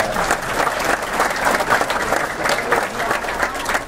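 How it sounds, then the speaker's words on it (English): A crowd applauds steadily at a community event at a mosque in Kitchener after a speech by the Ontario Premier. The dense, continuous clapping is fairly loud and close, with no pauses. "give yourself applause for that."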